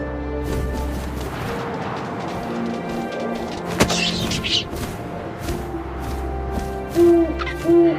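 An owl hoots twice near the end in the woods of What Remains of Edith Finch, short low calls following wind ambience, a sharp thump and rustling.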